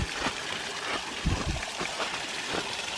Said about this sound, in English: There's waterfall number 6.